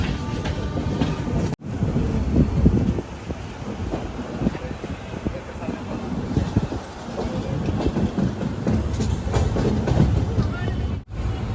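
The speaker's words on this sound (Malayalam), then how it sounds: "ഈ ട്രെയിൻ പോകുന്നത്, അതായത് നമ്മുടെ തിരുവനന്തപുരം എക്സ്പ്രസ് പോകുന്നത് 1-ാം നമ്പർ പ്ലാറ്റ്ഫോമിലേക്കാണ്" The Trivandrum Express rumbles steadily into platform 1, wheels clattering over the rails under gusts of wind on the microphone, with a couple of brief dropouts.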